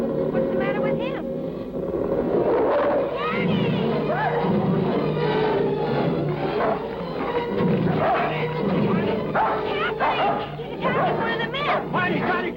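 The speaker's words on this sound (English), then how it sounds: "Barney, Johnny, call your dog!" A dog barks and snarls in an agitated attack on a ranch, loud and close amid shouting people talking over it, with a steady engine hum underneath throughout.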